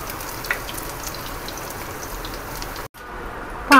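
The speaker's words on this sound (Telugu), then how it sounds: "అట్లనే బ్రెడ్ మొత్తం కట్ చేసిన పీసులన్నీ వేయించుకోవాలి" Bread pieces deep frying in hot oil in a pan for Double Ka Meetha give a steady, even sizzle with a few pops, briefly cut out near the end.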